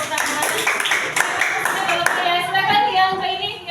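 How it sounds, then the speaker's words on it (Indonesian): Classroom group applauding a student group after their presentation, a dense burst of clapping hands with children's voices mixed in, steady and fairly loud through most of the clip before thinning toward the end. "Berikan tepuk tangan."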